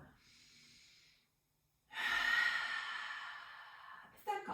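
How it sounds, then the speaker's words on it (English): A soft breath is followed after a pause by a long, loud, close exhale during a deep cleansing breath in a yoga class, ending with a brief catch of breath. "go ahead and take a couple of deep cleansing breaths"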